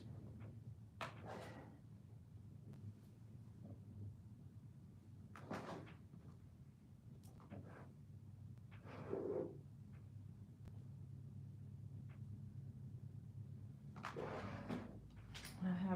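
A desk drawer holding small jewelry embellishments is pulled open indoors and its contents are rummaged through, giving a few scattered knocks and slides, with a louder clatter near the end.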